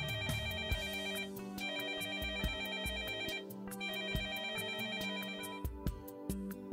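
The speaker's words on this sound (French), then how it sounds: "Le téléphone de Magali se met à sonner." Mobile phone ringing with a loud, bright repeating electronic ringtone melody, rhythmic and close, playing alone without speech.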